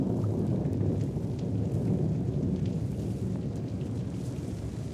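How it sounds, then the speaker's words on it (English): A storm draws near in an audio drama, heard as a steady, loud rumbling roar of thunder and wind with a wash of rain noise running continuously throughout, with no voices. "A storm was approaching."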